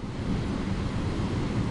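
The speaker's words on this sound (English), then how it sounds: "These breaking waves must be at least, I'd say, 12 feet when they're coming in here." Continuous roaring wash of large, roughly 12-foot storm waves breaking at Lantic Bay, heavy low rumble with wind buffeting the microphone, no voices.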